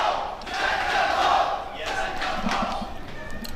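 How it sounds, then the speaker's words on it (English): The crowd at an esports Counter-Strike grand final between Astralis and Team Liquid cheers and erupts in a loud, sustained roar, with scattered shouts and thuds. "The crowd erupting at the chance of Liquid hoisting the first trophy of 2019 here."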